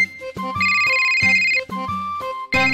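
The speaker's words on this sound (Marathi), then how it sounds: "आई बघ ना कोणाचा फोन आहे." A phone ringtone plays loud and close in a home scene, with a repeating tonal melody of bright, sustained notes broken by short gaps.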